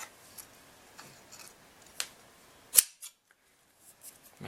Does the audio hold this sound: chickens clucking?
no